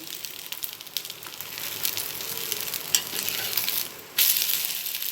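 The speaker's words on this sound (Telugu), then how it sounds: "కొంచెంగా ఆయిల్ యాడ్ చేసి అటు రెండు సైడు బాగా కాల్చుకోవాలి" Semiya tomato dosa crisping in a little oil on a hot pan, a continuous close sizzle with faint scrapes and a louder burst of hissing near the end.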